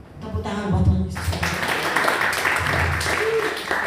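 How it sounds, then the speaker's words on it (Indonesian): A church congregation at a Sunday service breaks into applause, a dense burst of clapping that swells after a voice and continues steadily for several seconds. "Tepuk tangan buat Tuhan Yesus."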